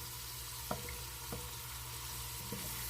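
Onions and green pepper fry in a pan for a homemade gravy, a steady soft broadband sizzle running throughout, broken by a few faint utensil taps at irregular intervals.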